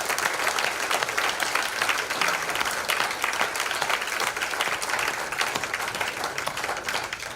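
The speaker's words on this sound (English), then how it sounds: "The loudest cheer there was from the Mirror Man" Sustained applause with some cheering from a crowd at an awards ceremony, steady and dense throughout, the clapping continuous and fairly close.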